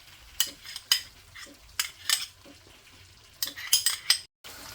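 Whisked yogurt and tomatoes fry on a low flame for chicken handi, with soft sizzling under a series of sharp spoon-against-pot scrapes and clinks, then a brief gap of silence.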